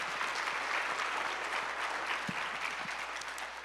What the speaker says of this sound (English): Another round of applause, please, for our panelists.